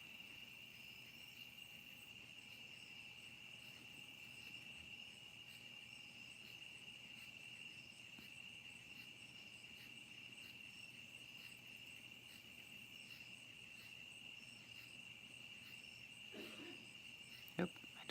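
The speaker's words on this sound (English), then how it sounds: "You crickets need to be quiet for a minute." Crickets chirp steadily outdoors at night, a thin high-pitched continuous trill that stays faint and constant throughout with a soft background hum.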